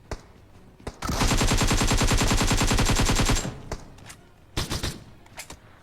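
Gunfire from a BGMI battle royale match on the Miramar map, a loud sustained burst of rapid shots lasting about two seconds, followed by a few scattered single shots and shorter bursts, including single shots from a DBS shotgun.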